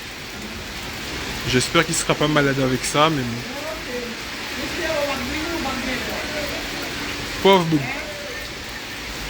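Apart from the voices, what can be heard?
rain falling during flood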